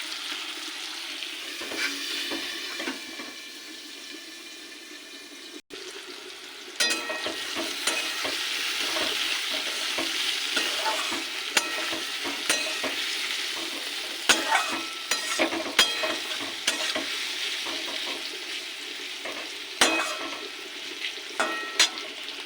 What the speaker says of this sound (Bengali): এটাকে ঢাকা দিয়ে হালকাভাবে ভাজবো